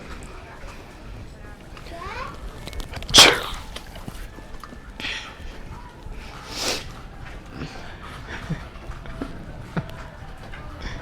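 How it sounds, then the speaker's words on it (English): A fake sneeze performed as a prank with a Gatorade bottle: one sharp burst stands out midway through, near and loud, amid background chatter and other faint noises. "I'm about to sneeze."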